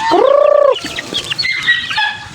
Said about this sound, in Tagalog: Bigyan natin ito mga manok.